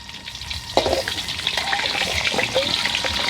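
Food frying in a pan, heard as soft crackling and sizzling with a few sharp clatters from stirring, fairly quiet against background hiss.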